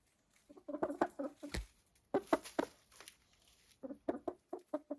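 Laying hens in a chicken coop, soft clucks and short scratchy calls in scattered bursts, close by with quiet pauses between them.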